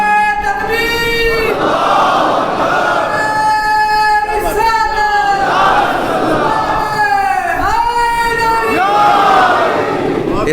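Large crowd at a religious gathering chanting a slogan in loud, rhythmic unison, voices rising and falling in repeated sustained calls that fill the space.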